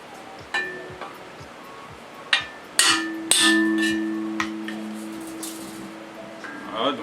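A hammer taps the tuned notes of a steel gas-bottle hang drum one at a time, several sharp strikes with bright resonant tones that linger and hum after the louder hits.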